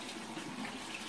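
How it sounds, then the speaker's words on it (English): Hands being rinsed under a running tap during a shave routine, a brief, even splash of flowing water heard close and moderately quiet. "You're gonna rinse your hands."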